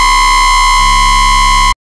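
A loud Serum synth bass plays with its LFO and tube-mode distortion turned all the way up, giving a sustained buzzing drone whose tone shifts twice before it cuts off abruptly.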